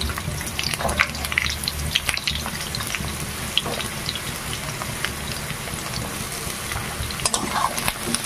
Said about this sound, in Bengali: খুব সুন্দরভাবে নরম করে ভেজে নিতে হবে পটল আর আলুটাকে।